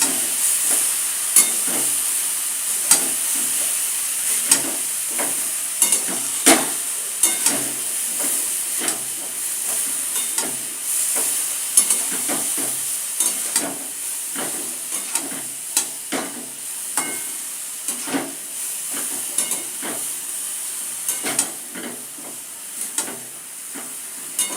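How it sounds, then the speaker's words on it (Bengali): Prawns frying with turmeric in a pan for a chalkumro dish, a constant bright sizzle punctuated by frequent sharp stirring scrapes and clicks, close and fairly loud, with no voices. "ভালো করে ভেজে নেব।"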